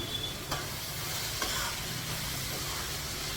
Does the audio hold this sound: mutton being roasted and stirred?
yes